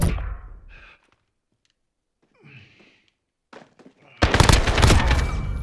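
AK rifle fire in a shooter video game: after a mostly quiet stretch with breaths and faint sounds, a dense, loud burst of rapid automatic shots sets in near the end.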